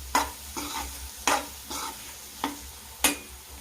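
A spoon scrapes rhythmically through soya chunk biryani masala in a pan, giving six distinct stirring strokes over a soft frying sizzle, with no one talking.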